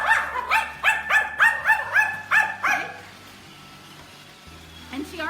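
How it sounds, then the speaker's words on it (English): Small dogs bark at a vacuum cleaner in a quick, rhythmic burst of about eight loud, close yaps, then the room falls nearly quiet apart from a faint noise near the end. "they bark at the vacuum like nobody's business"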